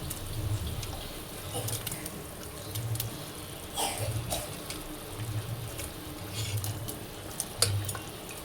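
Water pours and splashes into a pot of simmering duck curry in short bursts, with gentle sloshing and a faint simmering bubble underneath.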